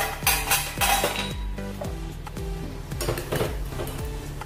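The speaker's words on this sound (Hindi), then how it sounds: "इसके ऊपर ढक्कन लगा देंगे और अच्छे से पकने देंगे" Metal clinks and clatters as a lid goes onto a cooking pot of rice for Mexican rice, several sharp, close knocks in an irregular rhythm with no talking.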